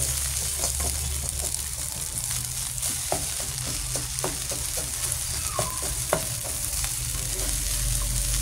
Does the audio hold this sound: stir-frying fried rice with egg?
yes